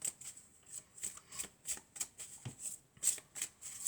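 Oracle cards are shuffled by hand in quick, crisp bursts, about a dozen papery riffles in a steady rhythm, close up and with no talking.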